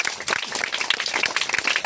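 A church congregation claps for a sister during a Hindi worship service, a dense, steady patter of many hands that runs loud and continuous with no voices standing out.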